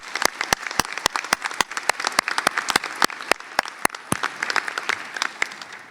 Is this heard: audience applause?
yes